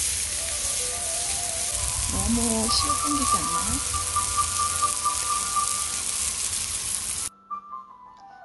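Pork belly samgyeopsal sizzles steadily on a barbecue grill at a family campsite, a close, continuous fry hiss while a person talks briefly over it before the sound cuts out.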